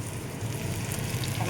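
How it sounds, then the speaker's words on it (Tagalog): Garlic sautéing in a pan while cooking fish fillet with tomatoes, giving a steady low, even sizzle that holds without a break for the whole moment, fairly quiet and with no voice over it. "Nag-burn na yung bawang. Tamang gisa-gisa lang yan."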